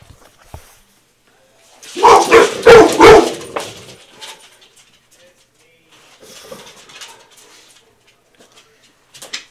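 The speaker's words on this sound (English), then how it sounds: "so my dogs are going to bark" Pet dogs barking indoors as someone comes home, a loud cluster of several barks early on, then fainter scattered yips and whimpers, with one more bark at the very end.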